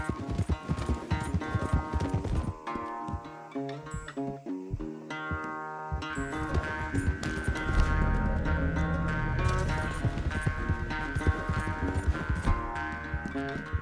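A horse galloping in a race in the video game Red Dead Redemption 2, rapid rhythmic hoofbeats running continuously beneath a swelling musical score, with a brief whinny possible.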